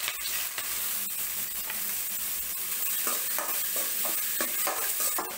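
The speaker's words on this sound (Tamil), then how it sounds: "இப்போ நல்ல வெங்காயம் வதங்கிருச்சு" Onions sautéing in oil with mustard seeds, urad dal, chana dal and green chillies, a bright continuous sizzle broken by repeated stirring scrapes and taps from a spoon, close and steady with no voices.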